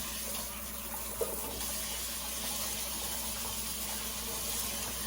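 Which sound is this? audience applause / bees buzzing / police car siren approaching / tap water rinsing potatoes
tap water rinsing potatoes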